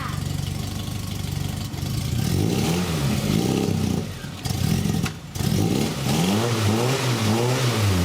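A Triumph Spitfire car engine with a sticky choke runs and revs repeatedly, loud and close, its pitch rising and falling in several throttle blips before settling into a lumpy idle.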